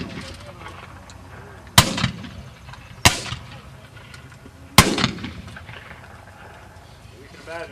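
Black powder muskets fire at a reenactment of the 2nd and 4th U.S. Infantry in Gettysburg, Pennsylvania: three loud, sharp reports a second or two apart, each trailing off in an outdoor echo over faint background murmur.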